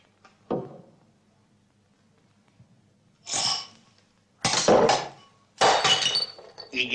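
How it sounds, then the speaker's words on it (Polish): Folk ceramics are smashed in a 1963 Polish film scene: one sharp crash, then three loud, jangling breaks, the last two close together, separated by near-silent pauses. "tłuczenie ceramiki, niechybnie ludowej"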